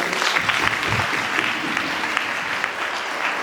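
A large indoor audience at a Catholic church Bible convention claps loudly and steadily throughout, a dense continuous applause with no break.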